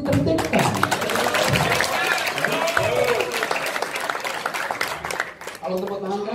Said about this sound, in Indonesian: Kalau tepuk tangan keras masih kecil artinya.